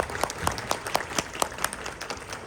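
An audience claps steadily at a talk during the Lima book fair, a dense, even round of applause that holds at a constant level throughout.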